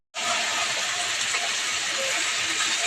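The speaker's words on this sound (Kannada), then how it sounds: "ಇವಾಗ ಕ್ಯಾಪ್ಸಿಕಮ್ ಹಾಕ್ತಾ ಇದ್ದೀನಿ." Capsicum dropped into hot oil for fried rice, setting off a loud, steady broadband sizzle that starts abruptly and holds evenly close by, with no talk over it.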